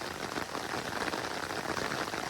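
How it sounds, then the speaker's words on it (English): Heavy rain pours during a Norwich thunderstorm, a dense, even hiss of drops hitting surfaces, moderately quiet and steady throughout with no voices. "heavy rain like this."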